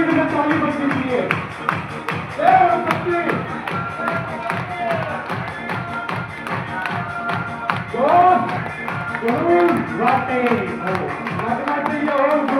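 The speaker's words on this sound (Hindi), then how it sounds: "जोरदार ताली बजाएंगे और रेगुलर स्पीड में ताली बजनी चाहिए।" An audience at a journalists' training and awards event claps in a steady, regular rhythm throughout. Voices carry over the continuous beat.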